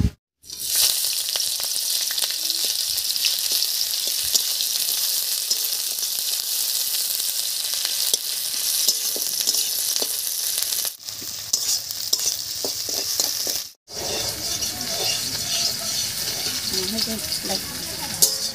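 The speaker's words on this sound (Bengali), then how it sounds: "তেল গরম হয়ে গেছে, তেলের মধ্যে দেবো পেঁয়াজ কুচি" Chopped onion sizzling in hot mustard oil in a wok over a stove, a loud steady fry with stirring scrapes, interrupted twice by brief breaks, then a softer sizzle.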